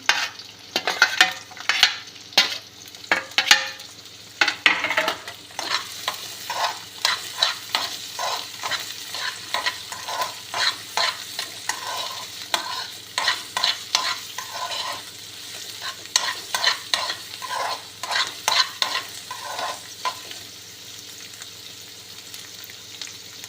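Capsicum and carrots are stirred in a hot pan, the sizzle of frying running throughout with repeated sharp scrapes and clatters of the spatula, close and clear with no talking.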